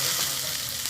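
Ground spice paste for a cashew masala sizzles steadily in hot oil, a dense continuous frying hiss at close range with no talking.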